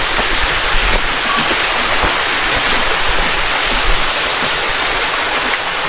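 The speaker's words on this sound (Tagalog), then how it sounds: "Sarap ng tunog ng lagaslas ng tubig." A forest stream in the Sierra Madre range rushes close by, a loud, steady, unbroken wash of flowing water with no voices.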